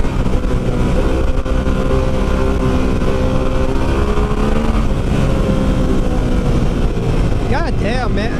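A Harley-Davidson Pan American motorcycle engine holds a loud, steady, rumbling drone close by for several seconds, with a brief warbling rise near the end.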